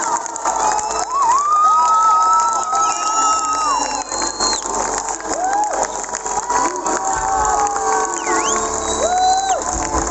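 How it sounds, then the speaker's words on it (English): A church congregation clapping and cheering as a DJ comes forward, excited voices and whoops rising over a crowd din, with sung or shouted tones sliding above the noise. "people noticed who he was, and people started really clapping"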